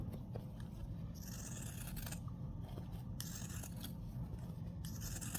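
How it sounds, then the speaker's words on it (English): Pinking shears snip around an embroidered in-the-hoop coaster in a quiet series of crisp cuts and faint rustling of fabric, close and low in level. "And then I have some pinking shears. And then I just cut around the whole thing."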